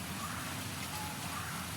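Rain pours steadily in a garden on a rainy day, a close, uniform hiss of drops with no pauses and no talking.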